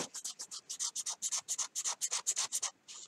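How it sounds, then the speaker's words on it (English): Hand sandpaper rubs back and forth over a hand-carved wooden fishing lure in quick, even strokes, a close raspy scratching of about fifteen passes that pauses briefly near the end. "we're going to be knocking off all the roughs with a smoother sandpaper"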